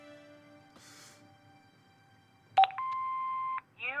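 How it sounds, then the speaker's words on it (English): An answering machine in the video game Broken Sword 5 gives a short blip, then a sustained electronic beep of about a second, followed by a brief rising chirp, all clean and close over a faint background hum. "Hobbs's answer phone, and he's got messages."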